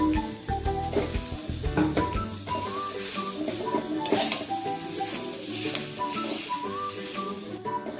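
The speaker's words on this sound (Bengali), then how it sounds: "আলুটা ভালো করে মশলার সাথে মিশিয়ে নিয়েছি" Potato pieces stirred with turmeric and spices in a frying pan, a soft sizzle and occasional scrapes running steadily under prominent background music with melodic whistling.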